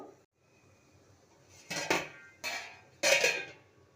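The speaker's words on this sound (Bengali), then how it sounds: "ঢাকা দিয়ে দেবো" A lid is set over a pot of raw banana and potato boiling in water, giving a few close metallic clanks and rattles, the last one loudest, over a faint background hum and no talk.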